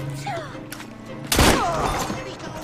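Gunshot from Assassin's Creed Syndicate rings out as one loud, sharp burst midway through, set against steady game ambience and faint background voices.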